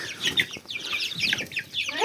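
A chicken clucks and chatters in quick, uneven bursts nearby, with other birdlike calls overlapping and no talking.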